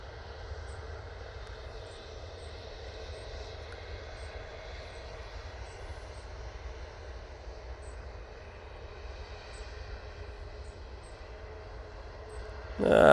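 A Finnair airliner arriving from Brussels and landing at Manchester Airport in low visibility, heard as a steady, distant broadband jet roar that holds even throughout, with a louder thump right at the end.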